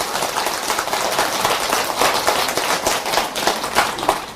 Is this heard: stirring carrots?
no